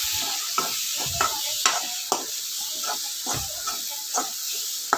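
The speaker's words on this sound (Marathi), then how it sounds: "आपण मसाला चांगला भाजून घेऊया स्लो गॅसवरती." Homemade spice masala roasting in a pan on a low gas flame gives a continuous soft sizzle and hiss, broken by repeated scraping strokes as it is stirred.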